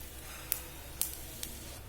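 Crushed ginger and spices, including coriander powder, frying in a pan for a vegetarian chana dal: a soft, even sizzle punctuated by three quick crackling pops.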